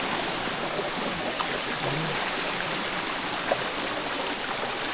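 Chanta Then waterfall in Chonburi gives off a steady broadband rush of flowing water, continuous and fairly even at moderate level, with no voices over it.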